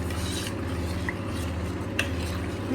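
A spoon stirs broccoli soup in a cooking pot, soft scraping and swishing strokes with a couple of light clinks against the pot, close up over a low steady background hum.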